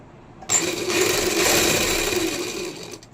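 A sewing machine runs a steady double line of stitches along kameez fabric, starting abruptly and humming continuously at close range before easing off near the end.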